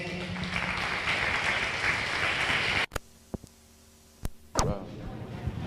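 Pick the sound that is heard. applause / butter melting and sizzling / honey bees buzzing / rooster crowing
applause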